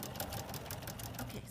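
A sewing machine with a ruffler attachment gathers a minky quilt ruffle, a close, steady, fast mechanical stitching hum with a regular rhythm.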